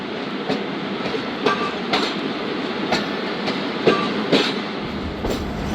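A train rolls past on the Zakariya Express journey, its wheels beating out a loud, regular clickety-clack over the rail joints above a continuous low rumble, close and with no voices.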